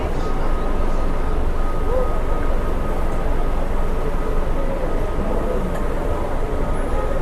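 A local train on the Sealdah–Bangaon line pulls out of Madhyamgram railway station, giving a continuous loud rumble and rattle of wheels on track from inside the moving carriage.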